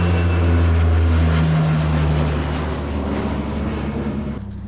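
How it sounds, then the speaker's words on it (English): Deep, loud droning roar of a large aircraft passing overhead, with a steady low hum that slowly fades toward the end. "We got a big plane coming over."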